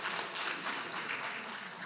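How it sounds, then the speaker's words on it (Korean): Dense, steady applause from a conference audience at the opening ceremony of the 2023 ITS society autumn meeting in Jeju, a continuous wash of many hands clapping at moderate volume. "박수를 한번 큰 박수로 격려해 주시기 바랍니다"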